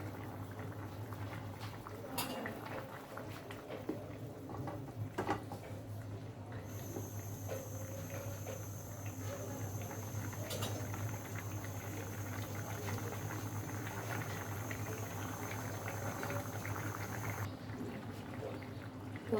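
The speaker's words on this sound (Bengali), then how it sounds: "ঝোল ফুটে উঠেছে, আমরা আর একটু জ্বালিয়ে নেব" Potato-tomato curry gravy boiling in a pan, a steady close bubbling simmer with soft pops and patter throughout, no voices.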